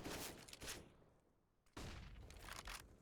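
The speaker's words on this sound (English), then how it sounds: "AK tapping away." AK rifle fire in a competitive shooter video game match, heard as dense bursts of rapid shots that stop briefly and then resume, fairly loud and with no commentary over them.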